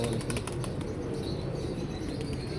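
Wings flap in quick bursts as birds take off and land close by, over a steady outdoor background.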